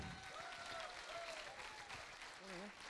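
Applause at an evening event with a singer at the civil service academy in Mussoorie, a continuous wash of clapping that stays even throughout, quiet overall, with voices talking underneath.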